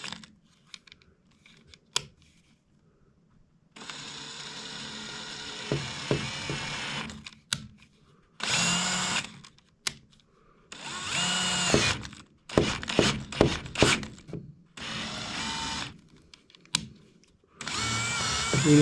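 A power drill slowly taps threads into a diesel tank, running in repeated short bursts of whining, grinding motor noise separated by quiet pauses and a few clicks, close and loud.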